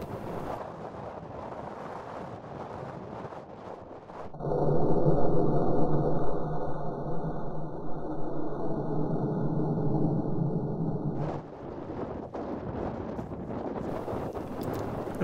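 Gusty wind buffets the microphone during a water rocket launch at 210 psi, a loud steady roar that swells abruptly and holds for about seven seconds before easing back to a quieter breezy background.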